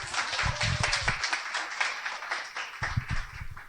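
Applause from an audience of women at a motivational immersion seminar, a dense steady patter of clapping that holds for several seconds and eases slightly near the end.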